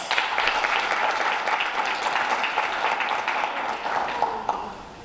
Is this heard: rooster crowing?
no